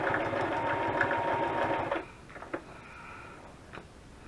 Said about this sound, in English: we'll just keep sewing until my thread runs out